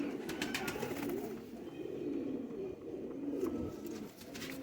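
Soft, low coos of Sialkoti pigeons repeat in a steady, overlapping murmur, fairly close, with a faint rustle of other birds in the background.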